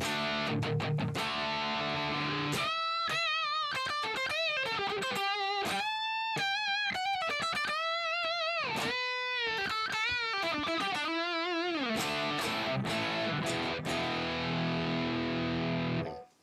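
Heavily distorted electric guitar through a rectifier amp plays fast palm-muted chugs and sharp lead bends, loud and saturated, with brief stops between phrases.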